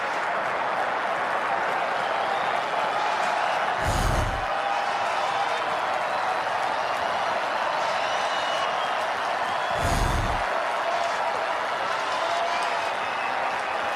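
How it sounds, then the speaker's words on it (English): A home crowd at a Dodgers baseball game against the Rockies on Memorial Day roars steadily from a distance, a dense, even wash of cheering broken by two dull low thumps. "Home crowd to its feet."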